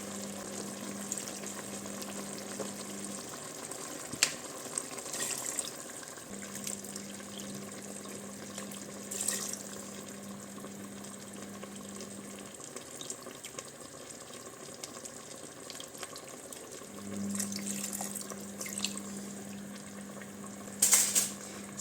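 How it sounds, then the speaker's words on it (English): White wine poured into a pork dish in a hot pan brings soft, faint liquid splashing and sizzling over a low steady hum, with a few short louder splashes. "So I added in 3/4 cups of white wine."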